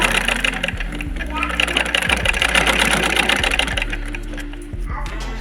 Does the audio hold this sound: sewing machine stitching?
yes